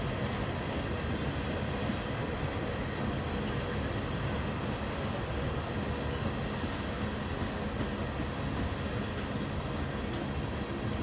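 A CSX freight train hauling Herzog cars rolls steadily past close by, a continuous loud rumble of wheels and railcars with faint clatter throughout and no voices.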